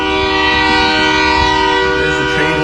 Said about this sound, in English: There's the train horn again